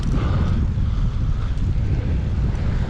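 Strong wind blowing outdoors near a mine site, a loud continuous rumbling roar buffeting the microphone with a deep low-end booming and steady gusty hiss throughout.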